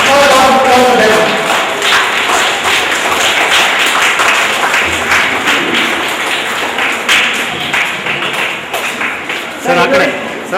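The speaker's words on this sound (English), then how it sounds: "small round of applause for them." At a judged event in southern India, a small crowd gives a brief round of applause, scattered clapping heard between a voice speaking at the start and again near the end.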